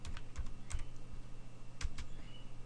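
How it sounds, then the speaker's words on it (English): A computer keyboard is typed on in a quick, uneven run of close key clicks, with a faint hum behind them. "I'm going to type in trace it."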